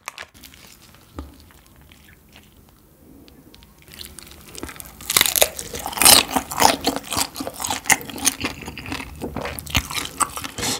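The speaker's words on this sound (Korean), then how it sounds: "여기 소스 한번 찍어 먹어보자." Crunchy spicy fried chicken dipped in a peppery mayo sauce is bitten and chewed up close, quiet at first, then a run of loud, crackly crunches and rustling from about five seconds onward.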